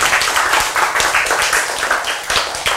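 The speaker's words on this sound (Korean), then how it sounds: "박수, 박수." Congregation claps during a sermon in a church. The hand claps come close and loud in a quick, fairly regular rhythm for almost three seconds.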